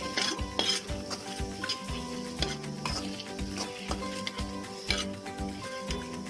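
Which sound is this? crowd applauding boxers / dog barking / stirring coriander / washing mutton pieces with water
stirring coriander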